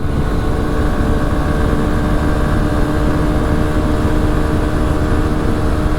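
A racing vehicle's engine held at full throttle in fifth gear drones loud and unbroken, with a steady roar that barely changes.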